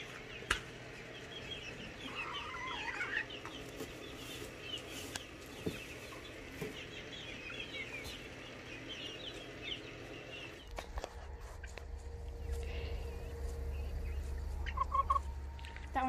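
Chickens cluck and squawk in a mixed chorus at moderate distance, with scattered short calls over a steady background hum that grows louder toward the end.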